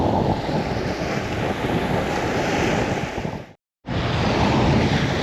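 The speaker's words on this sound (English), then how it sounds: "Man, it's getting windy out here." Strong gusts buffet the microphone by open water as a storm moves in, a constant loud roar of wind and surf that cuts out briefly near the end before resuming.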